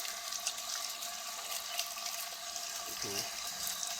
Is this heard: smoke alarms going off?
no